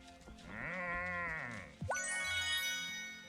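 Rosie, a cow in the farming game Wylde Flowers, gives one drawn-out, wavering moo, and a bright chiming jingle follows right after it, all close and clear.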